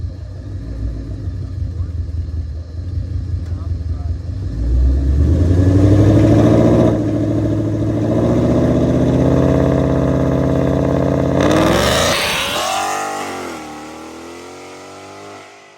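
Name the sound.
Ford Mustang GT with Viking shocks launching, engine revving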